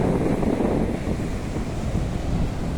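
Broad surf washes steadily along the wide, sparsely visited Velneshwar seashore lined with coconut palms, a continuous loud roar with wind buffeting the microphone throughout.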